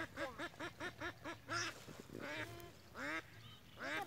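A domestic duck quacks in a quick rhythmic run of about six calls, then gives a few longer, louder quacks, all faint and close with no other sounds around.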